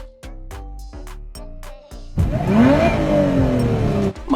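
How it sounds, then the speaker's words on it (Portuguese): A car engine sits at a rough, pulsing idle with several rhythmic throbs, then revs hard into a loud, sustained roar that rises and falls up close, with no talking. "ela escuta o Tem acelerando o motor do carro"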